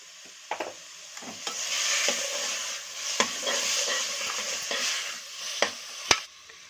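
Chicken with ground tomato, salt and turmeric stirred and sautéing in a pan for a home chicken curry: steady close sizzle with repeated scraping spoon strokes and sharp clinks against the pan, no voices.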